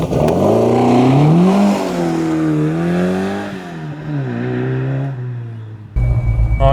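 A modified 1984 Ford Capri Mk3 with a 2.1-litre Pinto engine, heard from inside while driving. The engine drones loudly and its pitch rises and falls through acceleration and a gear change, ending with a sudden rumbling thump.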